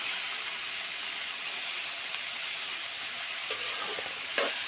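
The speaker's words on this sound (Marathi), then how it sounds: "त्याला परतून घेते" Chopped capsicum sautés in a pan with a quiet, steady sizzling hiss, and a few light stirring knocks come near the end, fairly faint with no voices.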